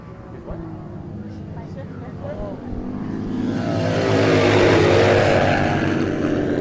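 Harley-Davidson XR1200 motorcycles race through a turn combination in an AMA Pro road race, engines droning steadily and building louder as the bikes approach, with a commentator talking over the engines.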